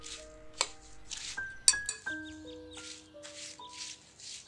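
Light clinks and scraping of a utensil against a bowl while tossing bread pieces with olive oil for fattoush salad, a few sharp taps among soft rustling, close and fairly quiet.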